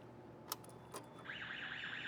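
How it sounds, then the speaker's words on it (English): A couple of faint clicks, then the warning alarm of a LIFT HERO CPD30 6,000 lb electric forklift starts up with a steady, rising-and-falling warble, fairly quiet. "There's your alarm we talked about."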